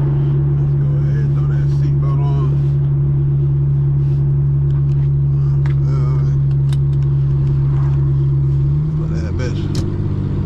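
A car fitted with Z1 long tube intakes drives along, giving a steady loud low engine drone throughout with a slight shift in pitch near the end, as a voice talks over it.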